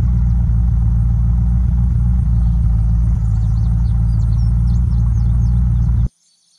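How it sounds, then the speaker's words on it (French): Car engine running in the video game Unturned, a loud steady low idling rumble with a faint higher whine and chirps above it, cutting off abruptly near the end. "La voiture va bientôt s'arrêter."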